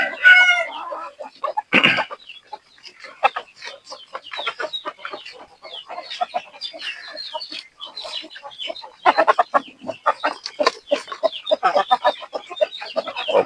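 Chickens on a poultry farm clucking and chattering in a dense, continuous flurry of short calls, close by, with a louder squawk early on and no talk over them.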